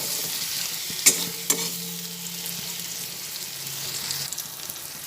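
Spices sizzle and fry in hot oil for a jackfruit korma, with a steady broadband hiss and a couple of sharp scrapes of a stirring spoon near the start, no talking.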